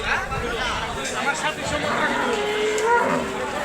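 At a rainy Eid al-Adha cattle market in Hazratpur, a cow gives a drawn-out moo beneath nearby talk and the general chatter of the crowd.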